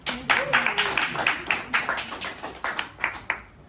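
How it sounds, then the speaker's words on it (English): Audience at a women in business reception claps for an introduced speaker, a modest group with distinct individual claps in a loose rhythm, fairly close, a voice briefly audible early on. "Big round of applause, please."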